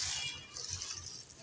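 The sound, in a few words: water poured into a pressure cooker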